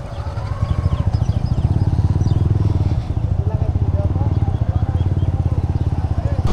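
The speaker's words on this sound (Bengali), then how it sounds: "কতগুলা বাইক, আমরা অনেকগুলা, 14-15টার মতো" Around fourteen or fifteen motorbikes ride together as a group on a road trip to the Bandarban hills, a steady loud engine drone with pulsing low rumble throughout, while people talk over it.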